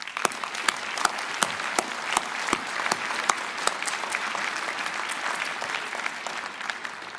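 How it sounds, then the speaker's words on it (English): A commencement audience claps together in warm, continuous applause, with several loud individual claps close by punctuating the broad wash of hands. "let's give ourselves a big hand of applause"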